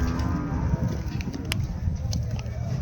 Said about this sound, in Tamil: இங்கே எருமை வாங்கி கட்டியிருக்காங்க.